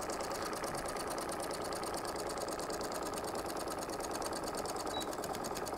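A sewing machine stitches fabric and runs a backstitch, a steady fast mechanical hum with rapid needle chatter that stays even and close throughout with no talking.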